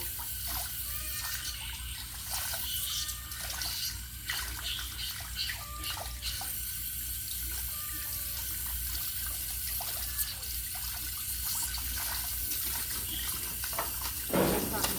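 Water from a hose rinsing through fish filters, a steady close rushing spray with splashing and someone talking over it.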